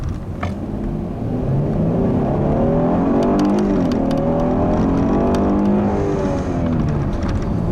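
A 2015 Hyundai Genesis 3.8 sedan accelerates hard, its V6 engine note rising steadily through the revs with gear changes, loud and close from inside the car, with no talk.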